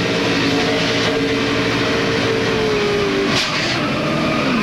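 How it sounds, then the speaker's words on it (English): Loud, continuous roar of a stock car racing engine at high revs during the 2002 Daytona 500, briefly dipping as it shifts or lifts, then resuming its steady drone. "Listen to the engine."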